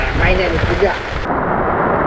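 Heavy morning rain pours down over a water-lily wetland during a fishing outing, a dense, steady roar of falling water that fills the whole stretch without pause.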